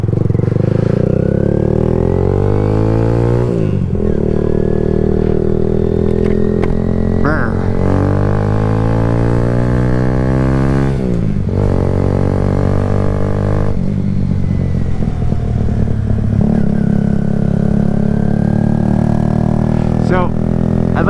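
A Kawasaki Z125 stunt-build motorcycle engine drones steadily throughout on a cold winter ride, its pitch rising and falling as the rider shifts and accelerates, with a voice talking over it.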